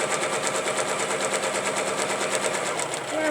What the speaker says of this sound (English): I'm going to swirl up and stitch a cute little antenna right there